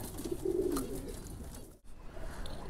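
Soft, low pigeon cooing close by, a short rolling coo followed by a brief silence and faint background noise.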